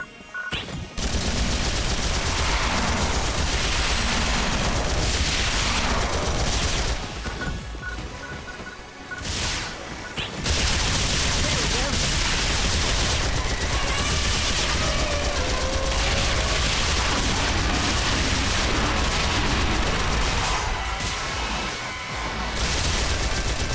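Turrets blast away in the Phantasy Star Online 2 video game, a dense, loud barrage of rapid gunfire and crashing impacts that runs almost continuously, breaking off briefly midway before resuming just as heavily.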